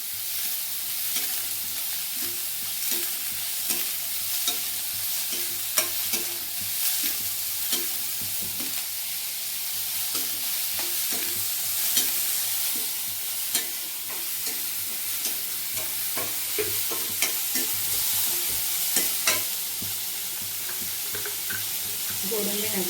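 Masala for chana masala frying in a pan with cashews nearby, a steady bright sizzle throughout with regular scraping and clinking strokes of a stirring spoon, close and continuous over a low hum.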